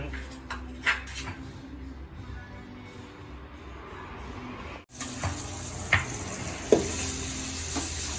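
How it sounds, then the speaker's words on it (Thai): Curry paste stir-fried with minced pork and pork ribs sizzles steadily in a pan, with occasional scrapes and clinks of a utensil, a brief dropout midway, and faint background voices. "ผัดพริกแกง กับ หมูสับซี่โครงหมู ผัดให้หอม"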